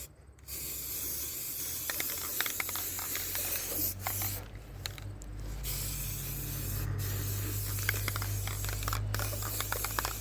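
Spray paint hissing from an aerosol can while coating a restored deer stand and its screen, a close steady spray in long bursts with brief pauses and small clicks.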